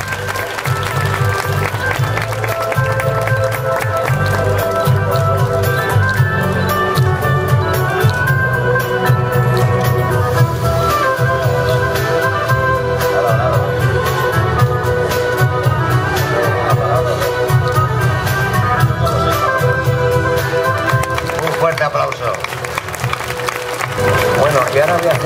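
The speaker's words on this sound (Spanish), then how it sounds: "Un aplauso, gracias." An audience at a regional queens' coronation gala applauds continuously, the dense clapping blended with loud music and a low bass throughout.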